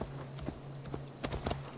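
Horse hooves clip-clopping at a walking ride in Assassin's Creed Valhalla, a faint, steady run of soft thuds over a low hum.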